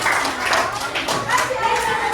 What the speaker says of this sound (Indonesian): Tepuk tangan untuk kelompok Aira.